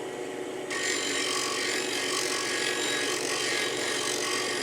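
A chisel is held against a spinning CBN sharpening wheel, giving a steady hissing grind that starts abruptly and continues evenly at a low level, with no voices.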